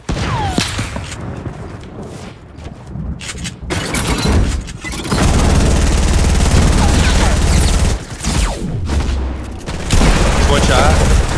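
Rapid gunfire from a Fortnite: Battle Royale match comes in loud sustained bursts and scattered shots, sometimes heavy, with a brief lull midway, while players talk over the fighting.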